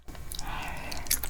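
Soft, close chewing of beef tripe tteokbokki, a continuous moist mastication with small crunchy and squishy bits, quiet and alone without talk.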